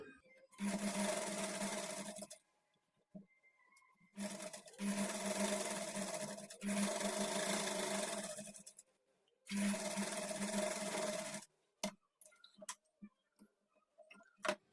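A sewing machine stitches a kurti in several steady runs of rapid mechanical whirring, each a few seconds long with short pauses between, ending in scattered clicks; close and fairly quiet, with no speech.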